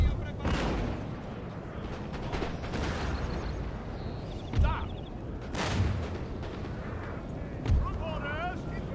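Cannon and artillery fire from the Napoleon: Total War battle game: loud booming shots over a dense, continuous roar of battlefield noise, with a few sharper blasts standing out.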